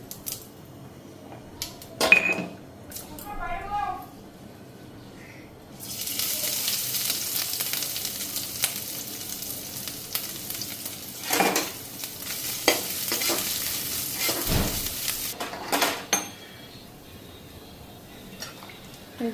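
Ginger frying in a pan for a vegetarian meal, with a hiss that swells and holds steady for a long stretch, broken by sharp scrapes and clacks of a utensil stirring against the pan.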